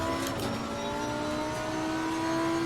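A Lamborghini Huracan GT3 race car in Assetto Corsa Competizione, heard as a steady high-pitched engine whine and drone from onboard, holding a sustained tone at constant loudness.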